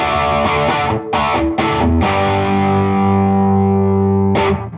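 Electric guitar driven through a Distortion III drive pedal set as a heavy drive, loud chords struck several times in quick succession, then a long ringing sustained chord and one more strum near the end.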